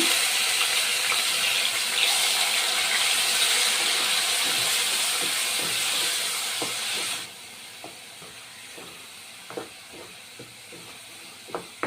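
Green chili and onion paste sizzles loudly in hot oil, a dense hissing spread that stays strong for about seven seconds. It then drops to a softer simmer marked by scattered small pops and clicks.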